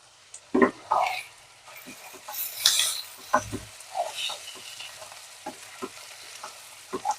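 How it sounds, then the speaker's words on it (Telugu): Chicken fry being stirred in a pressure cooker, a spoon scraping the pan bottom in short irregular strokes over a soft continuous sizzle, close and moderately loud, with no talking. "కొంచెం అడుగంటుతూ ఉంటుందండి కొంచెం మనము ఓపిక్గా కలుపుకోవాలి"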